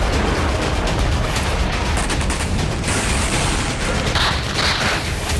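Rapid gunfire-like bursts and explosions from a drone attack on the secret service headquarters in Sochi, Russia, loud and continuous with crackling noise across the whole stretch.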